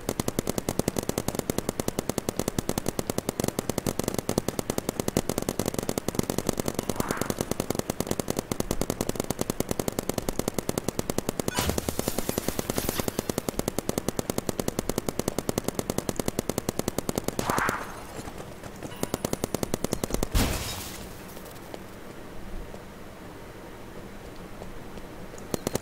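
A level 100 gun in the Roblox game Big Paintball fires nonstop in rapid, even machine-gun bursts for about twenty seconds, then cuts off, leaving quieter background game noise.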